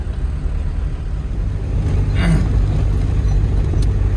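A Peugeot 205 crawls at about 9 km/h over a rough, rutted track, its engine a steady low drone with broadband road rumble that grows slightly louder midway, with no talk.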